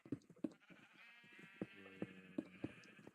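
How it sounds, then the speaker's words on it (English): Repeated sheep bleats from Minecraft, wavering and nasal, overlap in a steady stream, with sharp clicks punctuating the background at a moderate distance. "Oh man, those sheep, they are horrible, the sound."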